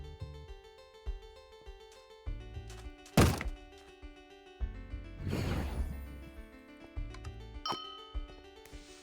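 A smoke bomb goes off in the Wynncraft video game, a sharp burst with a hissing, spreading whoosh over a steady bed of game music, among several softer thunks and clunks.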